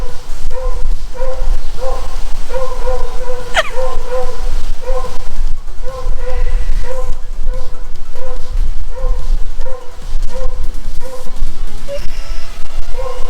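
A dog barks over and over in a steady, loud rhythm close by, with a brief whistle-like squeal partway through and little else.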